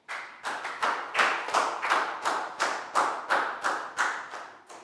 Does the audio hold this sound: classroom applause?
yes